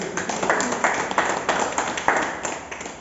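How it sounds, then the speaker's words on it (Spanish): Church congregation applauding together, a steady wash of many hands clapping with repeated surges, filling the space at moderate loudness. "un fuerte aplauso"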